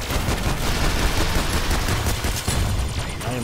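Rapid gunfire from a multiplayer shooter game, a dense continuous fusillade of overlapping shots that stays loud and close throughout, with no speech.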